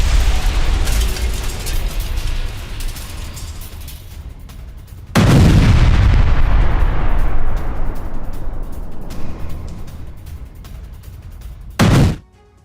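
Wartime explosions strike an area of Kharkiv: a sudden heavy blast crashes in midway and rumbles off in a long, slowly fading roar over steady background noise, followed by a shorter, sharp boom near the end. No voices are heard.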